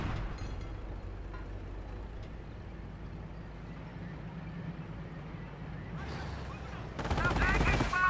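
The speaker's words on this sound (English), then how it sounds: "We're getting shot up here." Sustained machine-gun fire and battlefield gunfire rake infantry in the WWII strategy game Company of Heroes, steady and dense throughout, then swelling louder with sharp bursts near the end.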